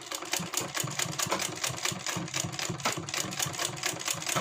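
An electric sewing machine runs steadily while stitching a kurti, its rapid needle clatter repeating in an even, continuous rhythm, close and clear with no talking.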